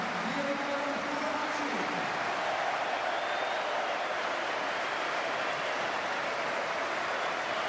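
Warm applause spreads around St Andrews stadium in Birmingham during a football match as a substituted debutant leaves the pitch late in the game, a broad distant crowd wash that holds steady throughout.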